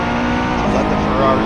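A Ferrari race car passing in a racing video game at the Kyalami circuit, a brief steady engine drone under a commentator's voice.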